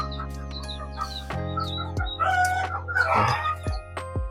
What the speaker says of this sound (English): In here we have 3 weeks chicks.